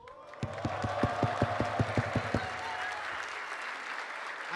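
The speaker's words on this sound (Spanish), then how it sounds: "Hay que aplaudir." Audience applause at a freestyle rap battle in Argentina: about a dozen loud, evenly spaced claps in unison, then the crowd settles into a softer, scattered clapping and murmur.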